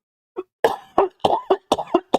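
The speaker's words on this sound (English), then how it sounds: "Sorry, I have a bit of a cough." A run of about six sharp, dry coughs from one nearby person, each a short harsh burst following a faint first hack, spaced roughly every half second with no talk around them.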